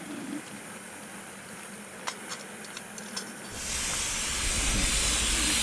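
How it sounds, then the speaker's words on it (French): A homemade live-steam miniature locomotive lets out a loud, broad hiss of steam that swells up partway through and then holds steady, after a few faint clicks and a low rumble. "j'ai fabriqué une locomotive à vapeur vive"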